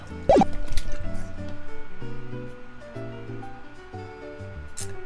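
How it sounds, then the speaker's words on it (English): Water sloshes and glugs in a bottle in one brief, close splash near the start, followed by steady background music. "I thought there was less water in this bottle than there is"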